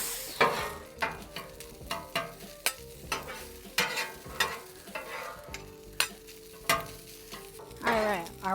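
Rice seasoned with salt is mixed in a hot pan, with repeated scraping strokes and clacks of the utensil over a light sizzle, close up and uneven in rhythm.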